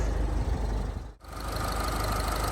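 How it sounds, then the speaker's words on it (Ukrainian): A Renault Koleos engine idling steadily with a low, even rumble, close up, with a brief dip in the sound partway through. "Ось так працює мотор."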